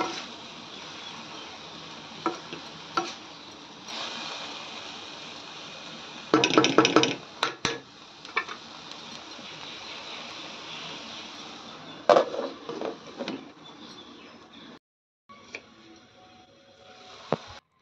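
Stirring a cowpea vegetable dish in a pan, with scattered clinks and scrapes of a spoon against metal and a few louder bursts of clatter over quiet background.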